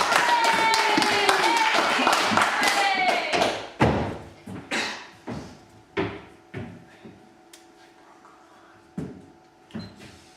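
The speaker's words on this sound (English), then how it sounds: "Big round of applause for Andy, ladies and gentlemen." A live stage show audience breaks into a dense burst of clapping for a volunteer, loud and steady for a few seconds before thinning out into scattered claps and thumps.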